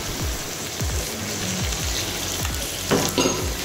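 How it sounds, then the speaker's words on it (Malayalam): Julienne-cut chicken strips fry in a hot pan with a steady, close crackling sizzle, broken by a few scraping stirs and a brief louder burst near the end; no one speaks. "അപ്പോൾ ചിക്കൻ ആ ജൂലിയൻ കട്ട് ഇട്ട് കൊടുക്കണം"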